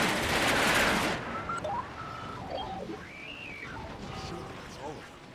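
Gunfire from the Transformers Rise of the Dark Spark video game: a loud burst of rapid shots at the start, followed by quieter synthetic weapon whines and electronic tones over a steady game backdrop.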